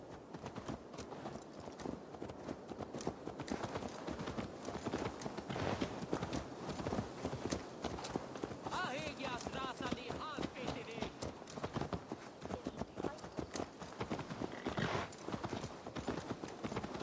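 Horse hooves clip-clop steadily over ground in Assassin's Creed Valhalla, a continuous close rhythmic patter of a ridden horse lasting throughout, with voices talking over it.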